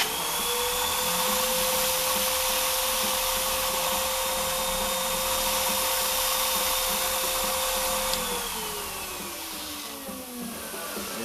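A steady, loud vacuum motor drones with a high whine as it sucks water off a vinyl record, its pitch dropping slightly near the end as the suction changes.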